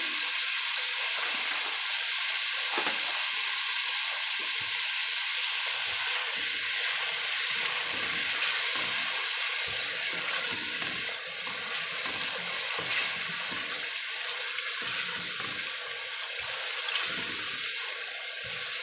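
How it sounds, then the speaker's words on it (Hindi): Masala for malai channay fries in a pan with a loud, continuous hissing sizzle and bubbling, close up and unbroken for a long stretch, with occasional scraping stirs and no talk. "मसाला भून रहा है माशाल्लाह से, बहुत प्यारी स्मेल आ रही है।"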